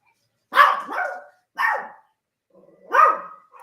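A dog barks three times at close range, loud sharp barks separated by short pauses, with nothing else audible between them.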